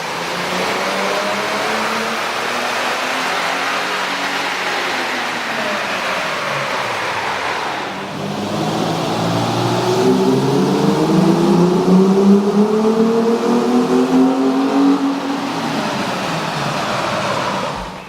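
A 2012–2014 Toyota Tacoma 4.0L fitted with an AEM air intake runs with a steady engine roar. Midway it climbs into rising revs with clear, sweeping harmonic pitch, then holds. It sounds loud and close, with no voices.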